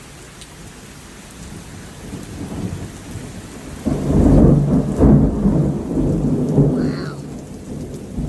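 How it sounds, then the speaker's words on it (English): A March thunderstorm in Wilmington: steady heavy rain pattering on surfaces, then a loud, close rumble of thunder rolling in midway and lingering under the downpour, with a brief spoken exclamation. "It's starting to really come down heavy."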